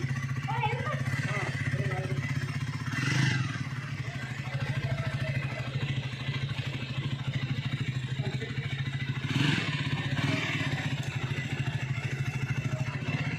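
A motorcycle engine putters steadily at close range with a low, even drone, two brief swells in rhythm, while voices talk over it.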